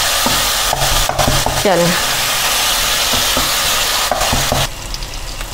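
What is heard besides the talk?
crushing tomatoes while cooking them in a pan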